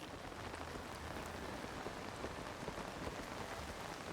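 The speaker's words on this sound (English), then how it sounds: "Seems to rain a lot here during the day." Steady, dense patter of rain falling continuously in the video game The Legend of Zelda: Tears of the Kingdom, soft and even, with scattered droplet taps and no voices.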